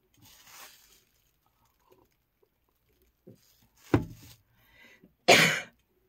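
A few isolated coughs from a person with a chesty cold in a quiet room, one sharp cough followed by a louder, harsher one near the end, with faint rustling between.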